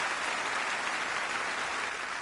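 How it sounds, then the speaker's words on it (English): A snooker crowd applauds, a dense, even wash of clapping hands that holds steady without pause. "Just listen to the crowd."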